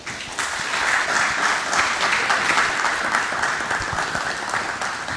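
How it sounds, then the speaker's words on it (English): Audience at a well-being panel event claps for the panelists, a loud, dense, sustained round of applause with no talking over it. "If you guys give our panelists a round of applause, please."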